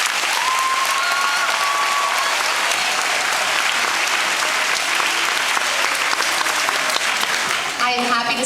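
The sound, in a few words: audience applause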